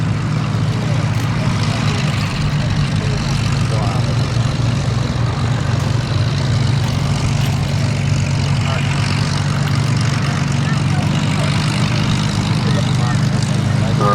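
A Spitfire Mark 14 flying solo at the 2023 Duxford airshow, its engine a loud, steady low drone that fills the whole stretch, with a voice talking over it.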